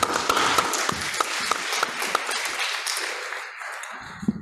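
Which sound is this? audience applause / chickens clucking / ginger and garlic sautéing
audience applause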